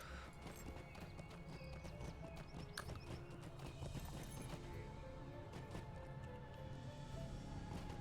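A horse in The Lord of the Rings Online clip-clops in a quick, steady hoofbeat rhythm for several seconds, with an occasional whinny, fairly faint and close.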